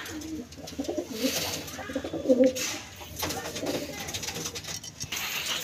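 Pigeon breeding pair, kept as flying pigeons, cooing softly in a low repeated rhythm close by, with faint background noise and no talk.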